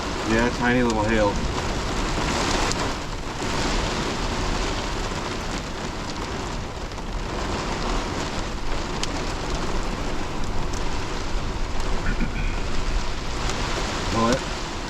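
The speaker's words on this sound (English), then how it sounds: "Yeah, tiny little hail." Heavy rain with tiny hail pelting a truck during a severe thunderstorm, a dense steady roar of close impacts running throughout, with brief voices briefly audible near the start and end.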